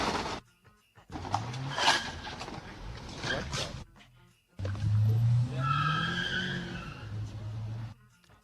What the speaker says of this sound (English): during the report, there was a car crash, which was a hit and run, as one of the cars sped away